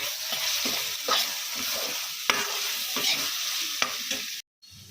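A spoon stirs a sizzling radish-greens tomato curry in a pan just after coriander powder goes in, with steady frying hiss and several distinct scraping strokes, heard up close with no talking.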